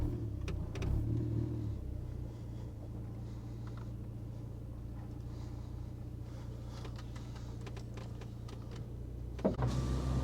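A Volkswagen GTI pulls away in first gear, its engine a steady low rumble heard from inside the car, with a few faint clicks and knocks over the drone and a brief bump near the end.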